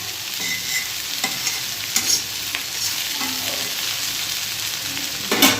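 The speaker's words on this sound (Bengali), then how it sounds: "চল ভাজা ভাজা হোক দেখো কত সুন্দর ভাজা ভাজা হয়ে গেছে" Snake gourd frying in a wok, a steady close sizzle with intermittent scraping stirs of a spatula, a few louder clanks near the end.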